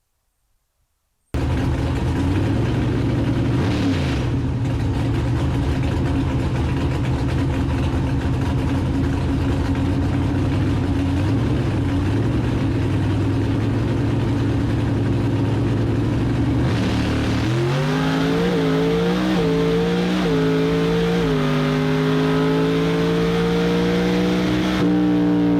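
A Wayne County Avenger drag race car at a nostalgia drag racing event idles loudly with a lumpy, throbbing engine note, then revs up in several rising pulls as it accelerates for its first pass.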